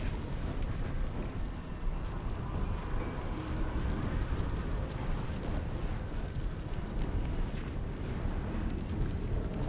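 A steady roar of fire in Baldur's Gate 3 from a rolling burning object, heard as a dense, continuous crackling rumble at an even level with no talk over it.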